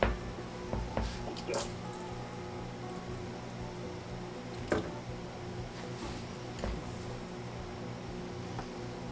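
Scattered water drips tap from a watered plant pot in an IKEA greenhouse cabinet, a few irregular drops against a low steady background hum.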